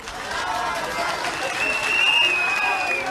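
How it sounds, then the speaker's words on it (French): A crowd at an RHDP political rally in Bouaké applauding, a sustained wash of clapping and cheering, with a voice speaking over it through a PA. "de continuer à applaudir notre imam Ouattara Ansoumana pour cette bénédiction."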